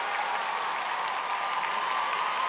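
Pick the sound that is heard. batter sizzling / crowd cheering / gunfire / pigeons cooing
crowd cheering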